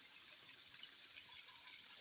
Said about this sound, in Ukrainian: Вімкнула свій струмочок і сижу тут, насолоджуюся.